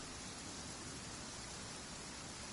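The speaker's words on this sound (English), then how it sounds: "I do so love the rain in this game." Rain falls in a video game as a soft, steady, even hiss, faint and unbroken throughout, with no voices over it.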